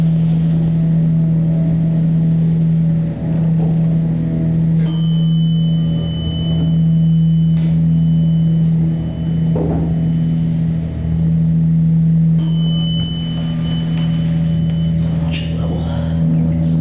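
A large Dover Oildraulic hydraulic passenger elevator at a JCPenney in Roosevelt Field runs with a steady, loud low motor hum that drones unbroken throughout, with faint cab and mechanical noises riding over it.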